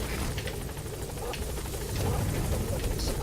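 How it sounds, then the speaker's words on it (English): Metal Gear Solid V support helicopter arrives in-game, its rotor thrumming as a steady, rumbling hum beneath faint game noise, growing slightly louder toward the end. "Support helicopter has arrived."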